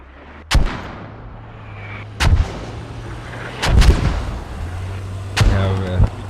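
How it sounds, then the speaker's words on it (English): Mortar rounds launching in a competitive tactical military video game, four heavy booming reports spaced one to two seconds apart, each followed by a rumbling tail over a low steady hum. "we have mortars going up on insurgent checkpoint now"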